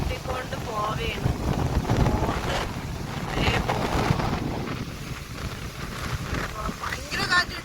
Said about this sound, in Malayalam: ഭയങ്കര കാറ്റ്, ഭയങ്കര കാറ്റ്.